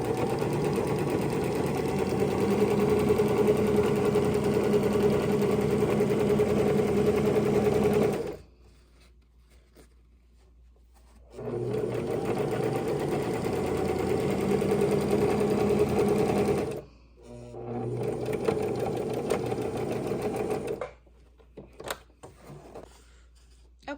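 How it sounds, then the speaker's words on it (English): A sewing machine stitches purse lining pieces together in three steady runs of fast mechanical whirring, with quiet pauses between them and a few light clicks at the end. "We're taking them over to the sewing machine and we're sewing the exact same side."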